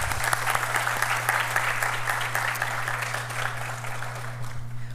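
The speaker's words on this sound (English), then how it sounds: "Let's have a round of applause for Professor Ramsubhag." An audience at a university professorial inaugural lecture claps in sustained, dense applause filling a hall, steady throughout and slowly thinning at the end.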